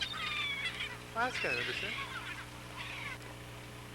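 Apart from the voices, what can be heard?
birds calling over water while feeding on fish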